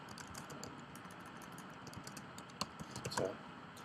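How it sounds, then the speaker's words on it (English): Fingers type data on a computer keyboard, a quick, uneven run of close, crisp key clicks that grows a little louder and busier toward the end, with no talk. "if we've been working on a document in the editor and we type some data here"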